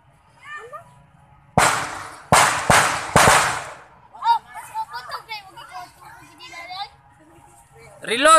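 Three loud, sharp blasts from an improvised cannon in quick succession, close by, followed by excited children shouting and chattering in Filipino.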